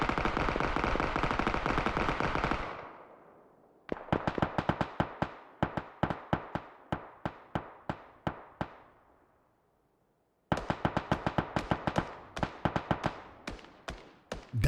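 Rapid automatic gunfire in the video game PUBG, console first-person mode, with a continuous burst followed by evenly spaced sharp shots, a brief silence, then another quick run of crisp, loud shots.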